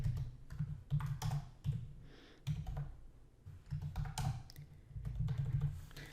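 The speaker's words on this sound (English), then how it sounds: "Typing's hard for me." Rapid clicking of computer keyboard keys in uneven bursts, close and fairly quiet, with brief pauses between runs of typing.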